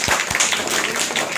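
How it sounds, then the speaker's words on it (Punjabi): An audience claps for a young child on a children's interview show. The scattered, fairly close clapping blends into a short patch of applause with a couple of distinct thumps at the start. "ਤਾੜੀਆਂ ਮਾਰੋ ਇਸ ਬੱਚੇ ਲਈ"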